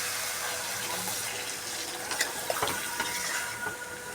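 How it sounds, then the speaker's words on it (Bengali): Water is poured into a pan of chicken mince and jackfruit curry with potatoes, a steady rushing flow with faint clinks and sizzles breaking through near the end. "এবার আমি জল দিয়ে দিচ্ছি"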